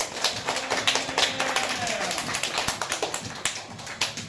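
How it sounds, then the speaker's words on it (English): Scattered clapping from an improv comedy show audience, uneven and moderately loud, with some voices mixed in beneath the claps. "clap your hands together now"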